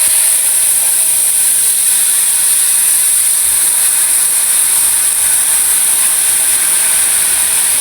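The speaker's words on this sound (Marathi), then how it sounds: "हे काय मित्रांनो, वाफ निघायला लागली." Steam hisses loudly and continuously from a hot pan after a glass of water is poured over cumin in oil while Maggi is made, a close, even, unbroken rush.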